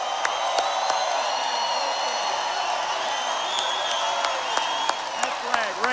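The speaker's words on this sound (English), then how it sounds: "How about a big round of applause for our military?" Rally crowd at a political event in Loveland, Colorado cheers and applauds for the military, a steady roar of voices and clapping with scattered whoops and sharp claps throughout.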